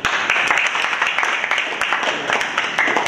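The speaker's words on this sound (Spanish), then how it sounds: "Un fuerte aplauso para ustedes." Audience applause at a university engineering session, a steady dense wash of clapping that fills the whole stretch without a break.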